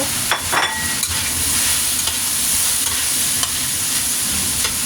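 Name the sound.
chicken and potato frying in a pan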